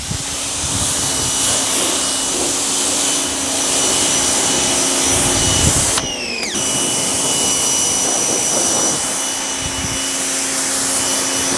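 Pressure washer running with a Yamatic 1/4-inch, 50-foot hose, giving a loud, steady high-pitched motor whine and spray hiss up close, with a brief pitch sweep and dip around the middle.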